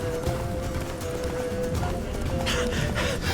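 A horse gallops in the video game The Witcher 3: Blood and Wine, steady clip-clop hoofbeats mixed with game ambience and a tonal hum, with brief talk.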